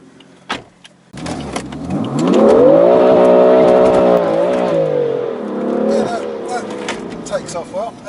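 A BMW M3 F80 launches hard from a standstill with traction control off, its engine rising into a loud, sustained rev close by, then easing off as people talk around it.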